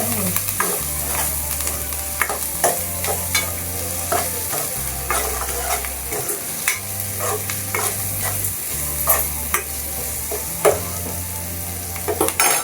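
Soya chunk curry with vegetables, Kerala style, is stirred in a pan, with a regular rhythm of scraping spoon strokes over a soft, constant sizzle and no voices.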